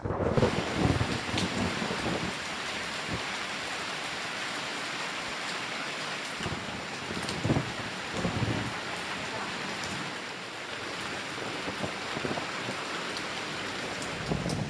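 Steady rainfall pattering on surfaces during the monsoon season on Koh Lipe, with low rumbles of thunder rolling in and out beneath the constant hiss of the downpour.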